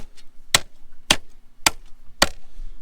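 Four sharp, solid thuds of a shovel striking hard ground, evenly spaced about half a second apart, close by with quiet gaps between.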